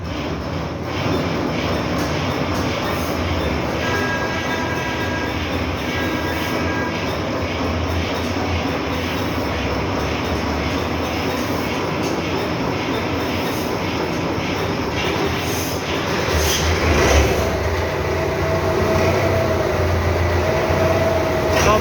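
A used Belarus 510 tractor, model 18, in Haveli Lakha, Okara district, runs with a loud, continuous, rumbling diesel drone that stays steady and close throughout.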